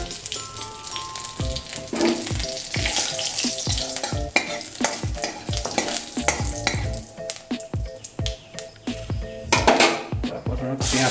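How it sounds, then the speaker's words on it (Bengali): Cumin seeds and a dried chili sizzling in hot mustard oil in a pan for a Bengali rohu fish curry, crackling and spitting up close with clinks of a stirring utensil against the pan. "সরষের তেল গরম হয়ে গেছে, জিরে দিলাম, সঙ্গে একটা শুকনো লঙ্কা দিলাম।"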